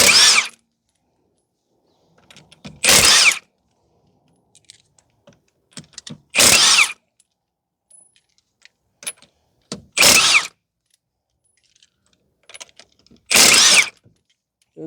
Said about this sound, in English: So just going to take off the lug nuts now.